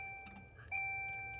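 Dashboard warning chimes in a 1996 Daewoo Espero 1.8 CDi just after the ignition is switched on: steady electronic tones, with a brief pause and then a fresh tone, over a low idle-free hum inside the car.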